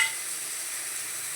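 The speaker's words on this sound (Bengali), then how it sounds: "ভাজা বসিয়ে দিয়েছি।" Loitta fish heads fry in a pan with chilli, Kashmiri chilli powder and turmeric, giving a brief, steady, hissing sizzle with no voices.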